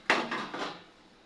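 A spoon knocks gently against a cooking pot of soft rasgulla cheese balls in syrup, giving three light clinks spaced about a quarter second apart that fade into quiet.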